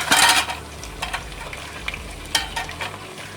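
Chicken frying in a pan for spicy biryani gives a constant close sizzle, broken by loud scraping stirs and a few utensil knocks against the pan.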